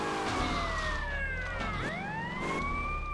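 Police car siren in Grand Theft Auto: Vice City, loud and close, its wailing tone sweeping up and down continuously over steady game background noise.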